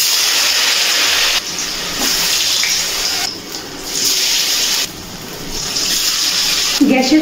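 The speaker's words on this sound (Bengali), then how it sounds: "এবার এক এক করে তেলে ছেড়ে দিচ্ছি ধোকাগুলো ভাজার জন্য" Mochar dhoka, banana flower cakes, dropped one by one into hot oil, a loud, close, continuous sizzle that swells and dips in bursts as pieces are added.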